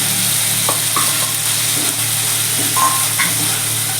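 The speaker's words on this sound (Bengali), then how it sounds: "লঙ্কা দুটো দিয়ে দিলাম এবার আমি একটু ভালো করে কষে" Green chilies and spices sauté in a pan for a vegetarian banana-flower and coconut dish, with a steady sizzle and occasional stirring scrapes throughout, close and fairly loud, and no talking.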